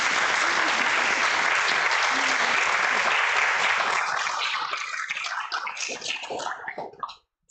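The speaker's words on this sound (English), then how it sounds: "In gratitude, big applause." A congregation at a Sunday service gives sustained, loud applause that holds steady for several seconds, then breaks into scattered individual claps and stops abruptly.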